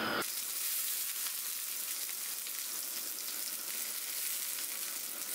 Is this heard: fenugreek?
yes